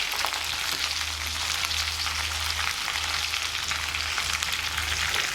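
Eggplant sautéing in masala in a pan, with a continuous crackling sizzle, close and fairly even, over a low steady hum from the stove.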